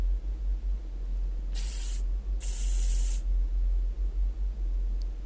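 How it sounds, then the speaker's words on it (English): Pest spray hissing in Space Station 13, two short bursts close by, the second longer, over a steady low background hum with no talk. "Pest spray."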